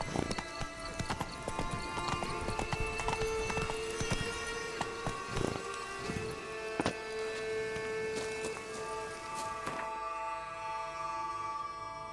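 Hooves of the horse Roach clip-clop in a steady galloping rhythm through The Witcher 3 video game, close and prominent over game music and ambience, easing off near the end.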